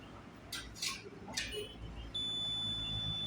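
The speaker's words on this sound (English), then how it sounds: "As you can see, you're getting a beep." A few faint clicks and taps as multimeter probes touch filters on a screen connector, then a steady high-pitched continuity beep starts and holds continuously until the end.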